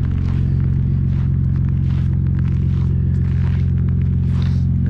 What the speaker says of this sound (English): Get started, let the truck warm up in the morning.